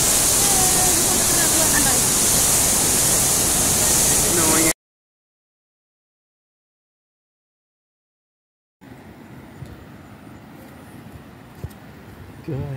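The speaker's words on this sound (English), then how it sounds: "Guys, this is Mape River. It's flooding here." The flooding Mape River rushes loudly near Lae in heavy rain, a dense roar of water. A stretch of silence follows, then quieter background noise returns.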